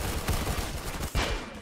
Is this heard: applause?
no